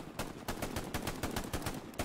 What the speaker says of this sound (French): fais chauffer le canon, Bistouflex.